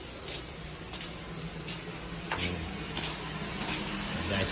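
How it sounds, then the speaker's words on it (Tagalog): Loud, steady rushing of water from a tap or hose on a small farm, a continuous broadband gush running without break from start to finish. "Narinig mo yung parang tubig guys,"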